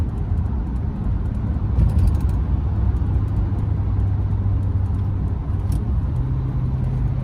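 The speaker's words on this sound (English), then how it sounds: "the exhaust brake is doing its thing, and it's like it can read your mind almost" Steady low rumble of a Duramax diesel pickup truck with its exhaust brake engaged while coasting off the throttle, a constant droning engine tone that shifts pitch slightly near the end, with faint wind noise.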